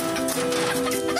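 Backyard chickens in Tel Aviv cluck busily and continuously at close range, with several birds overlapping against a low background hum.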